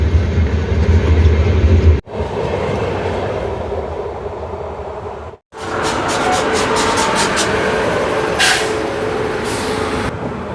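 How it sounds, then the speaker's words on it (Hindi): The New Delhi–Darbhanga Bihar Sampark Kranti Express passing close by near Lucknow, a loud continuous rolling rumble with two brief dropouts, then rhythmic clickety-clack of wheels over rail joints. "बिहार संपर्क क्रांति एक्सप्रेस सामने से जा रही है"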